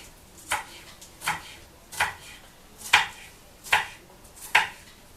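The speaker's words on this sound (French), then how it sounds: "On coupe. Voilà, de façon à ce que ça me donne la salade comme ça, frippée." A knife chops lettuce slices on a board in six steady, evenly spaced cuts, each a crisp, close thud with nothing else between them.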